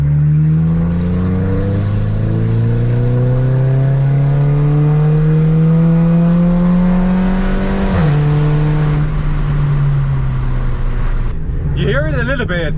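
A VW Golf GTI fitted with a cold air intake and a loud exhaust pulls hard in third gear, the engine note climbing steadily in pitch, then a shift and a brief drop before a pop at the end.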